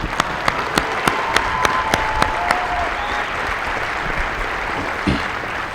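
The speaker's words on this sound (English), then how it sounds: "Let's give a round of applause for our family members and friends." Family members and friends applaud at an Air Force basic military training coin and retreat ceremony, a dense, loud, even roar of clapping from a large crowd, with a few sharp isolated claps standing out early on.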